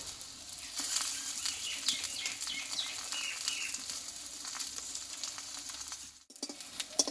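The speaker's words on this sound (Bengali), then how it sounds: "এইবার আমি এই টিফিনগুলো একই পোষে আমি ভেজে নেবো" Wheat-flour tiffin snacks shallow-fry in a pan with a spoonful of oil, giving a steady crackling sizzle with popping spatters. It is close and continuous, then briefly breaks before resuming.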